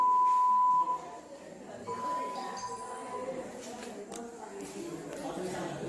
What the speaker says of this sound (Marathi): हा आहे बीपचा आवाज।